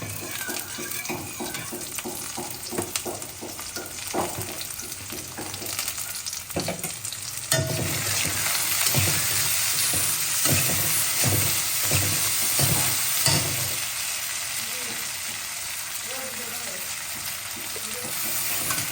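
Onions fry with salt in a pan, giving a loud, steady sizzle. Rhythmic scraping stir strokes run through the first half, and the frying grows louder and denser midway.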